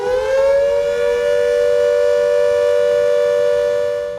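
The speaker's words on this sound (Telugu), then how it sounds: "ఈ మాక్ డ్రిల్లో భాగంగా ఎయిర్ సైరన్లు మోగుతాయి" Civil defense air raid siren sounding during a war mock drill in India, a loud, steady wailing tone that holds its pitch for several seconds, heard alone with no talk.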